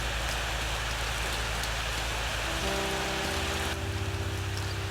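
Steady rain falls on surfaces in the Shattered Realms video game, a constant hiss of drops with a low droning tone joining partway through and no voices.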